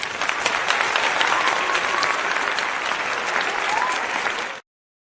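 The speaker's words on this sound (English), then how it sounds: "we go ahead and start off with a round of applause" A crowd applauding at the start of a live show, dense, steady clapping that holds loud and even for several seconds before cutting off sharply.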